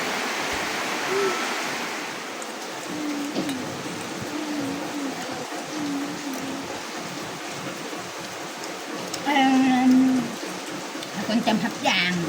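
Steady rain falls outdoors in the evening at an old farm garden, a continuous soft hiss with occasional voices and brief tonal sounds over it.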